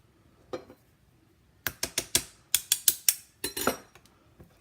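A detailed metal cookie cutter rapped against a hard surface to free rolled dough, one tap then a quick run of sharp clacks in two bursts, close and clear with no talk.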